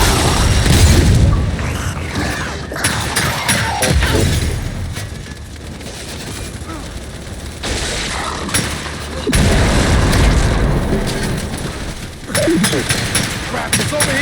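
Mounted turret fire and heavy explosions in the Gears 5 video game campaign roar loudly and continuously, with booming blasts and rapid gunfire bursts rising and falling throughout.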